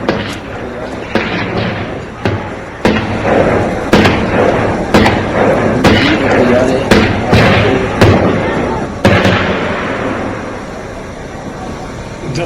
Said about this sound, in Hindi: उसके बाद सेना ने ग्रेनेड लॉन्चर से इसे ढेर किया है